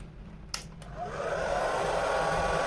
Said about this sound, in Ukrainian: Підключений фен, вмикаємо навантаження.